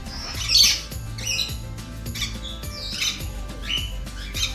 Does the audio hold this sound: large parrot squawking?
yes